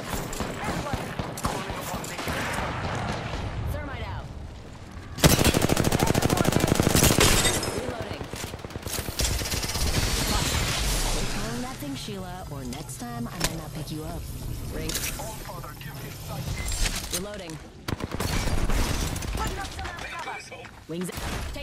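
Gunfire in the battle royale game Apex Legends, bursts of rapid automatic weapon fire and single shots coming in waves with a very loud stretch midway, mixed with in-game voice callouts.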